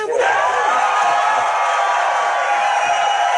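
A studio crowd bursts into loud, sustained cheering and whooping with applause, dense and continuous throughout.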